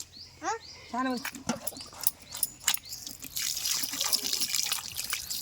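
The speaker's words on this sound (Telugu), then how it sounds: "అమ్మ చేపలు కడుగుతుంటే మన్మాడు నీళ్ళు పో పోస్తాడు" Water poured over fish being washed outdoors in a village home, a steady splashing trickle filling the second half after two short bird-like chirps and brief voices at the start.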